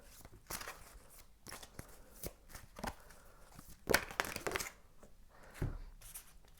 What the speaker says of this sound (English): So I'm gonna shuffle some more.